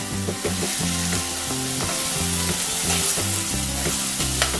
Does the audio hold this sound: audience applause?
no